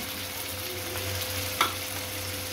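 Chicken and potatoes frying in a pan give a steady, close sizzle with a faint crackle throughout, one brief clink near the end, and no voices.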